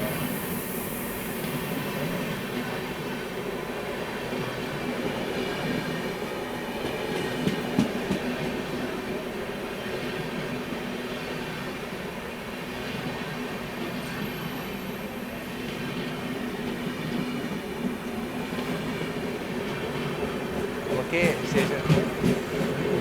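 A moving passenger train on a Howrah-to-Chennai run, with steady carriage rumble and wheel clatter close by, continuous and fairly loud, swelling with sharper rattles toward the end.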